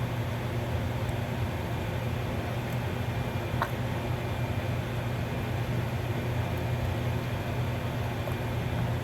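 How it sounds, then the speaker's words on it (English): Electric fan running steadily in a home kitchen gives a constant broadband whoosh with a low hum beneath, unchanging throughout, with no speech over it. "Sorry for the fan noise"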